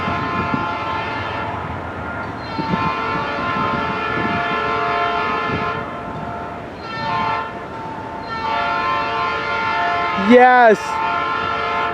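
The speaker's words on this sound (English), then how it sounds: "that ex-Southern horn lives on in 2016. Looks like a Norfolk Southern train." An ex-Southern horn on a passing Norfolk Southern freight train, hauled by a Dash 9 and SD40-2, sounds in long, loud sustained chords over rumbling rail noise, with a brief voice speaking near the end.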